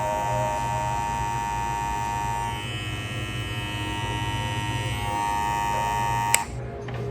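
A BaBylissPRO FX hair clipper runs continuously, a steady, close electric buzz with a constant tone that holds for several seconds before a click as it shuts off.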